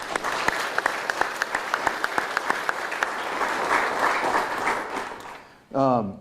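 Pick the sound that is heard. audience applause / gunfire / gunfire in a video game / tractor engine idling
audience applause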